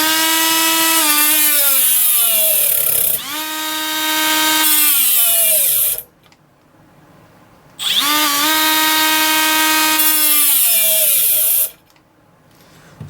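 A Milwaukee M12 FUEL 1/4-inch right angle die grinder (3485-20) whines loudly through two long runs. Its pitch sags and wavers as it is loaded toward a stall, with a quiet gap between the runs.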